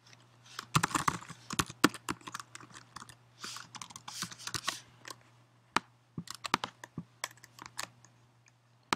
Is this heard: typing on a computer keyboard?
yes